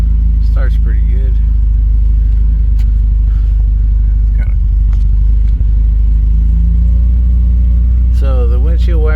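A 1988 Porsche 944 race car engine idles steadily right after starting, a loud, close, continuous low rumble with a few brief voices heard over it near the end.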